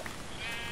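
Sheep bleating in the Minecraft video game, one short, fairly faint bleat in a swamp area, heard over some low background noise.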